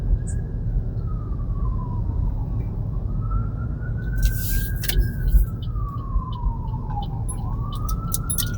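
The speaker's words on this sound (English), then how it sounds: "okay, ambulance on the right side" An ambulance siren wails from a vehicle passing in Honolulu traffic on Oahu, its rising and falling tone sweeping over the steady road rumble inside a moving car, with a few clicks and knocks along the way.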